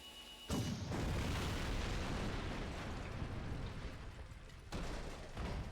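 A tank explodes in Jak 2, a sudden loud blast after a brief quiet start. It swells into a sustained rumbling roar, then a second burst hits near the end.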